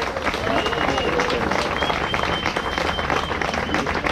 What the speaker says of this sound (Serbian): Znači, jedan je Goran Nikolić, stvorio aplauz za njega.